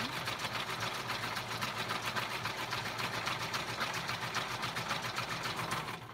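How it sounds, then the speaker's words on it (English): A sewing machine stitches around a mini junk journal cover, a fast, even mechanical whir with rapid needle rhythm, loud and close throughout with no talk. "Sorry about the loud noise of the sewing machine."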